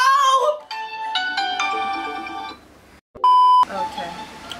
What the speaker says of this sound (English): And then someone wants to call my phone.